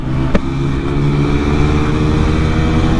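A KTM Duke 160 and an RTR 160 motorcycle race side by side, their engines droning loud and steady in a continuous roar with wind rush.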